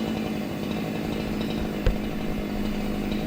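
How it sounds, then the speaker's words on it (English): Husqvarna 372 XP chainsaw running steadily at a constant buzzing drone, loading up and running out of gas, with one brief knock partway through and no speech. "that sound is a 372 XP that's about to die because it's loading up or running out of gas"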